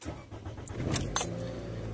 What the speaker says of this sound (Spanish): Vamos a prender el carro.